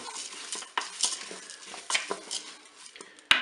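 Lentils and carrots stirred in a Cookeo multicooker on its browning setting, with a utensil scraping and tapping the pot in soft irregular strokes and light sizzling, quiet and close, ending in one sharp knock.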